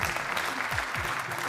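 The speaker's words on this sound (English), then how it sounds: "a round of applause for Fabiano Serlacchini" Brief burst of audience applause at a MotoGP team presentation live show for Aprilia Racing, fairly faint and steady, with a few low thumps underneath.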